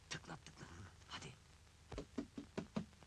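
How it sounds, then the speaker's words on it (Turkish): Knocking on a door, several separate raps in short bursts with pauses between, fairly close and clear, with no talking. "Bir daha tıklat hele."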